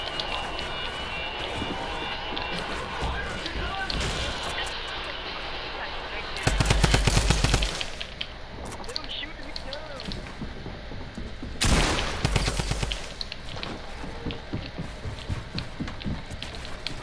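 Automatic gunfire in Fortnite comes in two loud rattling bursts a few seconds apart, standing out over quieter game ambience and occasional voices.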